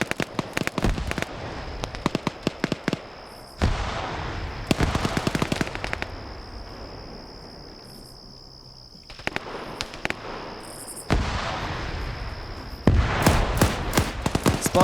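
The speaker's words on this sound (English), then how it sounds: "explosives going off" Explosives going off during a Friday Night Fights shooter match, mixed with rapid gunfire: loud crackling bursts and volleys come in clusters, separated by quieter gaps with a steady hum, and no one talks.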